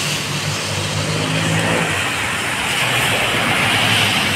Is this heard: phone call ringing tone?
no